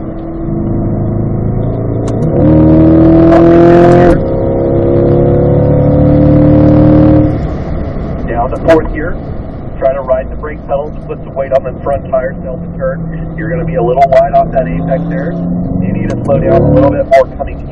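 A 2020 Chevrolet Corvette C8 with paddle shifters accelerates hard out of a corner on a race track, its loud engine note climbing steadily for several seconds before easing back under an instructor talking over the quieter running engine.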